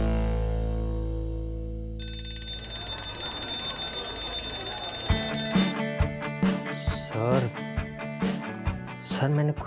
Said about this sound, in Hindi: तुमने सिर्फ मजाक में फायर अलार्म ऑन कर दिया।